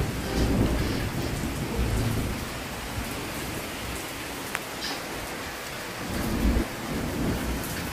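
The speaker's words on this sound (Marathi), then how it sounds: "पाऊस झाला चालू, हे बघा माझ्या अंगावर पडत आहे।" Heavy unseasonal rain pours down in a dense, steady hiss while thunder rumbles low, swelling a few times, with one sharp crack midway during a May storm.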